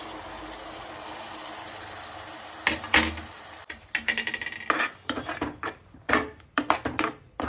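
Ground onion masala paste frying in a pan for chilli paneer gravy, with a steady sizzle broken by repeated close, sharp scraping and stirring strokes in the second half.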